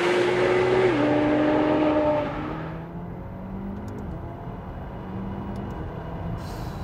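A McLaren 720S accelerates hard with a loud rising engine tone and a gear change shift, then drops to a quieter steady drone as the revs settle, heard from inside or close by.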